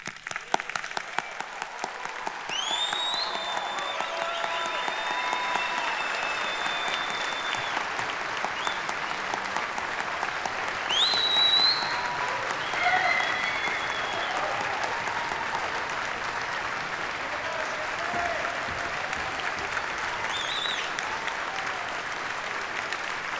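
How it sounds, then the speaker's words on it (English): Sustained applause from family, friends, faculty and staff at a fall university convocation ceremony, steady and even throughout, with a few faint voices and whistles rising over the clapping. "I ask members of family, friends, faculty, and staff of the university to join me in applauding each of you on the completion of your program"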